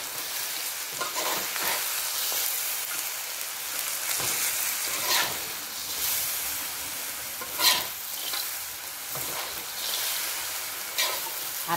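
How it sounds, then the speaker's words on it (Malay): Fried shallots and anchovies sizzle and crackle in hot oil for a sambal, with steady frying hiss and occasional stirring scrapes, close and continuous with no talking. "Masukkan bawang goreng. Kemudian masukkan ikan bilis."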